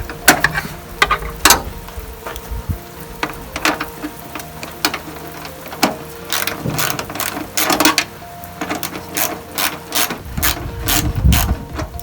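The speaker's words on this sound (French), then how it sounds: "il faut mettre une clé de 10" A 10 mm wrench ratchets on a free hood hinge nut of a Citroën AX, giving quick bursts of close metallic clicks separated by short pauses, with no talking.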